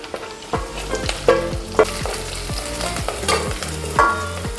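Mustard seeds, fenugreek, chopped ginger and garlic sizzle loudly in hot oil, with steady frying hiss and repeated stirring scrapes of a spoon against the pan.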